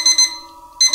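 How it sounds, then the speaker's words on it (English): A toaster video game's alarm clock rings loud and close in two quick bursts of bright, shrill electronic tone, with a brief held tone between them, and no voices. "Oh no, that's the alarm clock."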